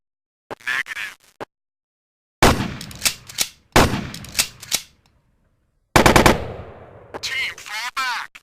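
Counter-Strike game sound effects: loud, rapid automatic gunfire and radio-style bursts come in four separate chunks divided by short silences, each starting abruptly and dying away.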